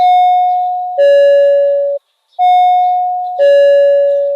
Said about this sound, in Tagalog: Kanina pa ako nagdo-doorbell, wala pa rin.